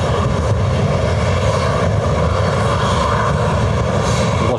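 An airliner arrives at Lanzarote Airport behind a Ryanair jet, its engines a loud, steady, close roar throughout.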